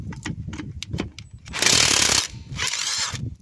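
A new impact wrench rattles in short, loud bursts while working on a Mk3 Ford Cortina, with quieter clicks and handling noise in between.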